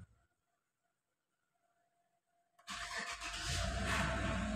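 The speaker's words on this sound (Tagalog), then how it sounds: "So, paandarin na natin." A 2016 Chevrolet Tahoe with a P0872 fault code starts after a quiet lull: a brief crank catches into a loud, steady engine run that continues to the end, close by.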